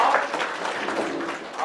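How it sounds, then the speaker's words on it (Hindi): An audience applauding in a hall, a dense wash of hand claps sustained at even loudness from start to finish. "बहन से ताली बजाइए।"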